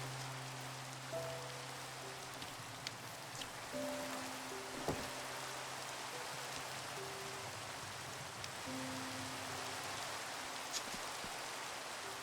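Continuous Minecraft rain, a soft even hiss with scattered drop ticks, heard alone beneath faint sustained background music tones.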